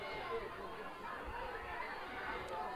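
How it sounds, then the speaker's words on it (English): A crowd at a high school regional semifinal baseball game fills the air with steady, busy chatter and murmuring, a constant babble of many voices at moderate loudness. "This is the loudest I've heard any crowd this year for either side."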